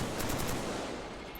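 Rapid burst of gunfire in Killzone 3 during an online clan match on the Frozen Dam map, a quick run of close, loud shots over steady background game noise.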